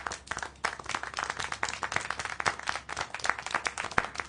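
Dense, steady crowd applause in the video game Syberia: The World Before, continuous and fairly even throughout, with no voices standing out.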